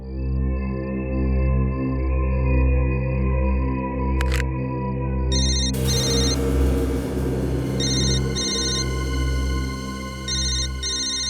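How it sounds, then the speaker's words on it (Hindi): A telephone rings in repeated short electronic bursts over a constant low hum, fairly close. "उस तरफ से आवाज आ रही है फोन की।"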